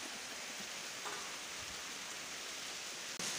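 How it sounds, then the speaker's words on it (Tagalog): Steady heavy rain with strong wind hisses down without a break, a dense even wash of sound with a sudden short dropout near the end. "Lakas ng hangin. Lakas ng ulan."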